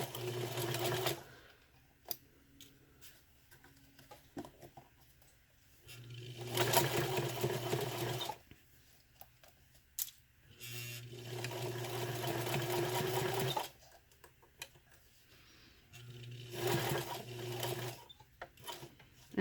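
A home sewing machine fitted with a zipper foot stitches a zipper onto a fabric pouch, whirring in several bursts of a few seconds each, separated by quiet pauses and small clicks of handling, with no talking.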